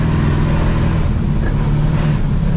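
Engine of an off-road Volkswagen Beetle revving steadily with the throttle worked by hand, a loud, continuous low drone that holds for a few seconds, close by, with no talking.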